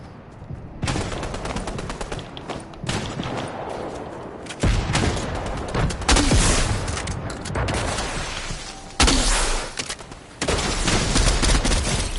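Gunfire in the video game Fortnite, dense bursts of rapid shots and automatic fire that come in loud clusters separated by abrupt cuts and brief quieter gaps, with no voices.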